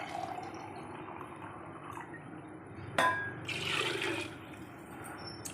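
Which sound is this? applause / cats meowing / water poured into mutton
water poured into mutton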